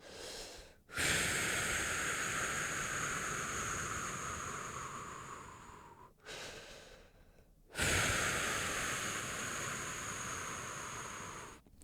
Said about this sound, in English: You're going to do a normal breath with an elongated exhale.